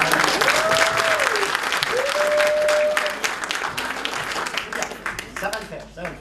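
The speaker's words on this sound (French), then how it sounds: "Montrez-moi comment vous applaudissez." Dense applause from a theatre audience fills the room loud and steady, with cheering voices rising above it before it thins out toward the end.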